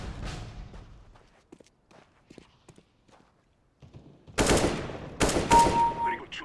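Gunfire from Counter-Strike: Global Offensive, a couple of loud sharp bursts near the end after a quieter stretch of faint game noise and clicks.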